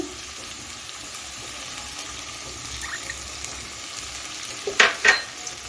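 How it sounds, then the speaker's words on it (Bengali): Ginger juice stirred into softened vegetables in a pan over high gas, a steady soft sizzle and hiss with a couple of brief scraping stir sounds near the end, no speech. "আদা রসটাকে একটু সবজির সঙ্গে মিশিয়ে নিচ্ছি"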